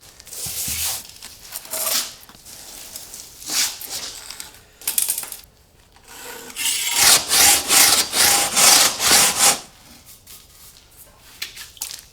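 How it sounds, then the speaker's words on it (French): Stone being cut for a wall, heard as close rasping, grinding strokes in uneven bursts, building to a rapid run of rhythmic scraping passes before easing off. "Tu dois découper la dernière pierre."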